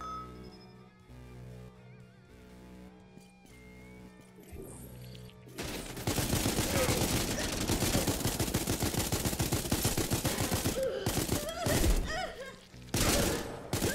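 In the space game SpaceBourne 2, heavy rapid gunfire erupts after a quieter musical stretch, dense loud bursts of shots crackling continuously for several seconds before briefly easing and returning.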